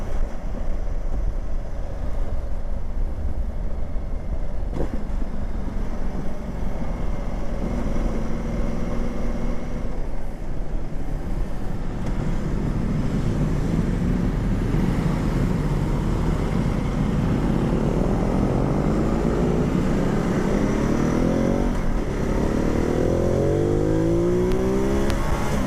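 A 2017 Ducati Multistrada Enduro motorcycle engine roars steadily throughout a road ride, its pitch climbing in rising sweeps as the rider accelerates harder through the second half, loud and close with wind noise.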